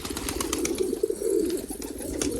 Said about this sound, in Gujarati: કબૂતર હજી અંદર બસા છે